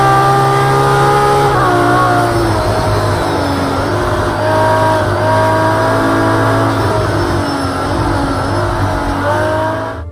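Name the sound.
race car engines in video game Project Cars 2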